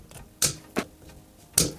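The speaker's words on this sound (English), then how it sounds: "Now these were looped, but I'd rather have them straight, so I'm gonna cut them." Pliers snip through the copper wires of an electrical outlet being replaced: three sharp, close cuts, two close together and a third after a short pause, in an otherwise quiet room.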